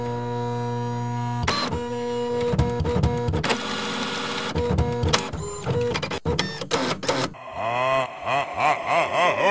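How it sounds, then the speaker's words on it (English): A printer runs through a busy cycle of whirring motors, sharp mechanical clunks and rapid feed movements, ending in rhythmic swooping, pulsing mechanical sweeps, loud and close with no voices. "The haunted printer knows all."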